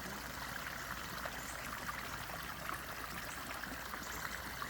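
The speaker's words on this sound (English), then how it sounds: "pondless waterfall." A backyard pondless waterfall splashes and trickles steadily, a close continuous babble of falling water with no talking.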